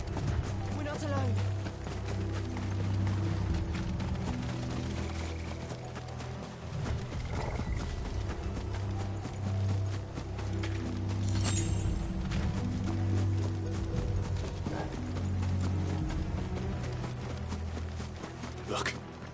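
Horse hooves clip-clopping in the video game Final Fantasy XVI, a steady galloping rhythm running throughout, mixed with game music and ambience while voices speak over it.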